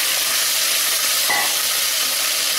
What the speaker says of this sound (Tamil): இப்போ இந்த மிச்சம் இருக்க ஆயிலையே நம்ம வெண்டிக்காயை கொஞ்சம் வதக்கினா